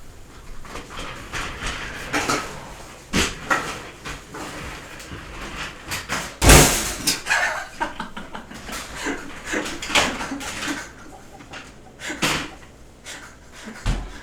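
A chair and a bed being shifted around a room, with repeated scraping, knocking thumps and one loud sharp bang near the middle, scattered irregularly through the stretch at close range.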